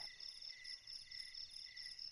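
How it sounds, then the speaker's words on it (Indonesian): Crickets chirp in a steady, dense high trill that keeps up without a break, fairly faint, from a horror animation scene. "Baru pernah gua lihat jangkrik sebanyak ini."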